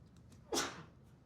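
A single sharp sneeze bursts out suddenly in a quiet room, close by, then fades quickly.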